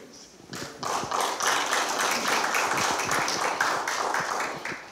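A gathering of a historical research institute's local branch breaks into audience applause, which starts after a brief quiet and holds as a dense, steady patter of many hands before easing off at the end.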